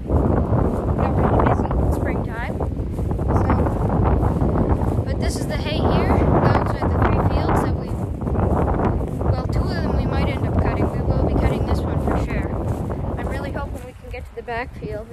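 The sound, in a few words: strong wind blowing on a farm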